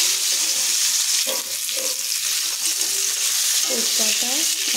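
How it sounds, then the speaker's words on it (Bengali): Bay leaves and black cumin seeds crackle and sizzle in hot oil in a wok, with a steady frying hiss and a few sharp pops near the end. There is no talk. "কড়ার মধ্যে দেবো এখন তেজপাতা আর কালো জিরে।"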